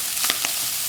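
Onions and garlic frying in butter for a Bolognese ragù, a short bright sizzle with a couple of quick spitting pops, close and fairly loud.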